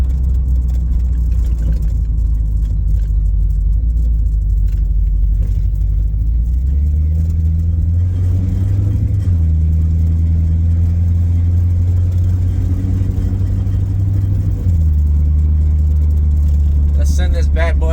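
A Plymouth Cuda's engine revs up toward about 5,000 RPM, loud and close, a deep steady rumble that climbs and shifts pitch in stages, with fouled spark plugs suspected.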